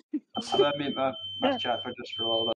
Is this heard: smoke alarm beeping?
yes